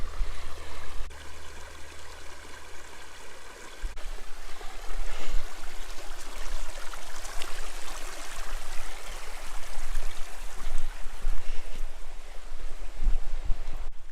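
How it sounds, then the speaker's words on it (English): Stream water rushing steadily over rocks at a creek crossing on a Southern California hiking trail, a continuous close, full wash of flowing water that swells slightly louder partway through, with no voices. "I've never been on any trail with this many creek crossings close to each other"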